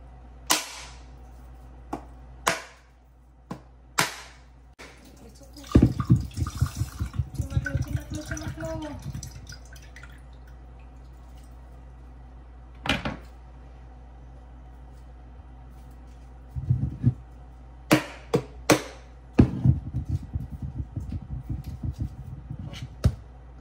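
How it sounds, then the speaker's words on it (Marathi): A coconut cracked open in a home kitchen while cooking for a Janmashtami fast, heard as a few sharp hard knocks, then a longer stretch of splitting and splashing, with more scattered cracks and taps later, close and fairly loud. "तर आता मी नारळ फोडते, बघू पाणी मिळता काय, कारण बरेचदा उपडीच होता."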